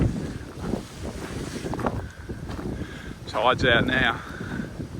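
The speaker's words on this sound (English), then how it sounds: "you can hear the wind now, probably in the camera" Beach wind gusts and buffets a camera microphone on a coastal cliff walk, rumbling in low bursts while someone speaks briefly over it.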